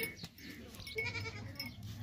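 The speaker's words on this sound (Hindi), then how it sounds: "ये देखें, बहुत ही खूबसूरत बकरी है।" A goat at a livestock sale, offered as a sacrificial animal, bleats in short calls close by over a busy background of other animals and crowd noise.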